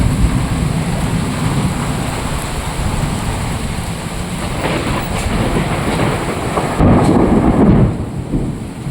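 Heavy rain pours steadily in a rainy-season thunderstorm, with deep rumbling thunder building underneath and a louder roll swelling near the end; no voices.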